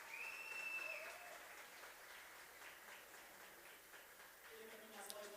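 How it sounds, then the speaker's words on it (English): An audience at a game jam grand final applauding, a sustained moderate clapping wash heard from a distance, with voices speaking over it and a brief whistle-like tone early on. "I would like a hand of applause to Carol Turão, who were the main organizers of this."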